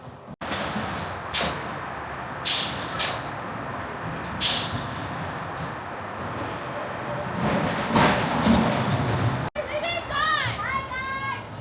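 A roller coaster ride at Chessington rolls and rumbles past a theme park queue line, a loud rushing roar with rattles, under children's chatter and screams, then a passerby's voice near the end.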